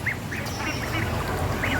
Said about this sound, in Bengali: কিন্তু ও প্রকৃতপক্ষে কালো হাঁস, ফর্সা না।